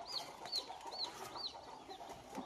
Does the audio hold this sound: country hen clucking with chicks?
yes